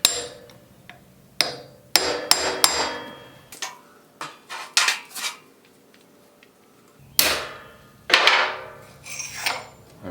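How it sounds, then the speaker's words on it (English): Sharp metal-on-metal hammer blows on a small punch, driving out a bearing race, arriving in irregular bursts of several quick strikes separated by short pauses, close and loud with ringing tails. "I've got a little punch here and my hammer."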